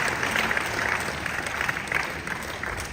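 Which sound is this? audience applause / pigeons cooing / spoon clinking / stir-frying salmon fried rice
audience applause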